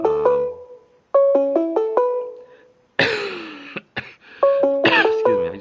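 A single harsh cough bursts out close by, between stretches of a bright, stepping electronic ringtone melody.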